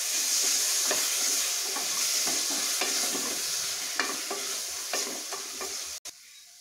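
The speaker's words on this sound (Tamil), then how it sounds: "இப்போ நம்ம நல்லா கிண்டி விட்டுறோம்" Vegetable rice with turmeric, garam masala and curd is stirred in a hot pan. A continuous loud sizzle runs under repeated scraping spoon strokes, then cuts off abruptly near the end.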